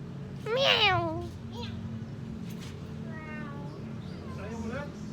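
A cat meows close by, one loud rising-and-falling call followed by several softer meows, over a low steady hum.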